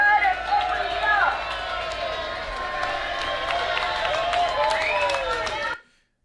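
A crowd at a public protest cheers and shouts in a sustained, loud roar of overlapping voices and whistles, continuing without a break before cutting off abruptly.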